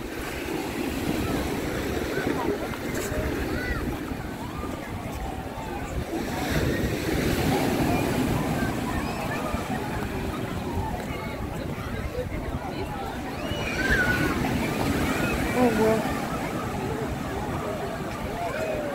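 Big storm surf rolling onto a busy central beach on the Black Sea coast, a continuous broadband roar of breaking waves with wind buffeting the microphone, steady and loud throughout, with voices faintly under it.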